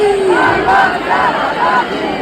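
A dense crowd chants in rhythmic call-and-response at the Lalbaugcha Raja Ganpati immersion procession in Mumbai, loud and close, with repeated rising vocal phrases throughout.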